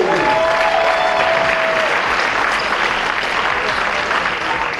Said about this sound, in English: One last round of applause for Kevin King family.